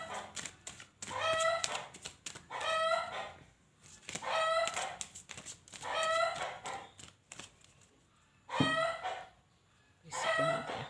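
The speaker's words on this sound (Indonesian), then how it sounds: "ada ayam." Chickens close by repeat a rhythmic run of clucks and squawking calls in six or so bursts, with quiet gaps between them and no talking over them.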